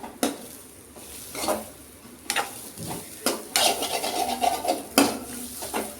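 Something, likely onions, being sautéed in a pan before rice goes in, with steady sizzling broken by repeated scraping stirs of a spoon against the pan, close and moderately loud, with no talking.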